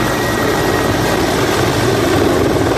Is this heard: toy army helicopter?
yes